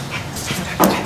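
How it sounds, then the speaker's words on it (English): A puppy gives a short, sharp yip near the end of a brief moment of whimpering and panting, close and loud. "Oh, puppy dog!"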